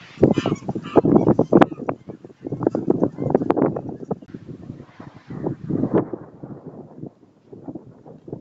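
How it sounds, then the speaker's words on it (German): Wild geese honk in a busy, overlapping chorus across open Hungarian puszta steppe, repeated calls rising and falling in waves with some louder nearby bursts and a fainter tail. "Die Wildgänse warten alle auf den Südwind."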